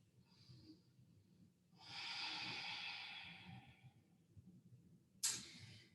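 One long, deep breath during a yoga core exercise, audible as a soft airy inhale that swells then trails off, followed by a short sharp exhale, close and quiet.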